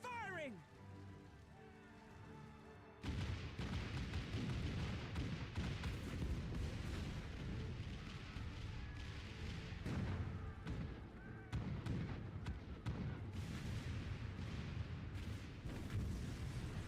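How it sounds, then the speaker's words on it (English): Cannons fire during a video game battle, a dense, continuous roar of overlapping booms and rumbling blasts that starts abruptly after a quieter opening and stays loud to the end, with voices shouting orders over it. "All cannons resume firing!"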